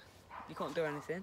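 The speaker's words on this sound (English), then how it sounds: "Sorry about the barking in the background" A dog barks and yips somewhere in the background while someone talks over it, the short barks rising through his speech at moderate distance.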